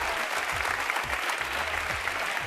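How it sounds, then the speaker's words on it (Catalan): TV studio audience on a Catalan game show applauds, a continuous bed of clapping over a rhythmic low musical beat. "Un aplaudiment per la gallina Josefina"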